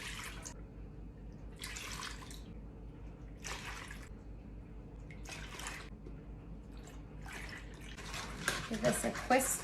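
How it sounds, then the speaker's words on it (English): Half and half being poured into a homemade pudding mixture in a kitchen: repeated short splashy pours and drips close by, ending in a louder burst of liquid sloshing. "I'm adding 6 cups of half and half"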